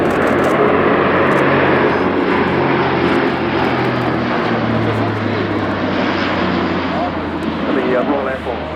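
Airbus A400M Atlas military transport with four turboprop engines flying at an air show, a loud sustained propeller drone with shifting low tones throughout, crowd voices faintly beneath.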